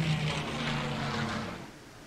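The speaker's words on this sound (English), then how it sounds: "A plane." A propeller airplane drones overhead in the jungle survival game Green Hell, a steady humming engine that slowly fades out, with no talking.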